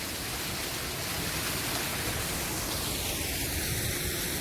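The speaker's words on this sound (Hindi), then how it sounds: "एक छोटा सा वाटरफॉल है, ये एक रुद्रनाग वाटरफॉल है।" Rudranag waterfall on the Kheerganga trek roars as a steady, dense wash of falling water, loud and close, with no voices over it.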